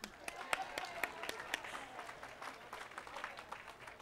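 An audience applauds at a 2013 graduation ceremony at Berkeley City College. The clapping is steady and rather quiet, as if heard from some distance, and runs for the whole stretch with sharper individual claps standing out.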